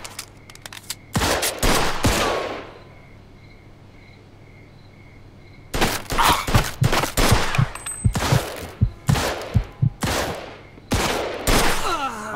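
Gunfire in the video game Mafia II, with loud bursts of automatic and single shots in clustered volleys, a short lull midway, then rapid shots again close and sharp.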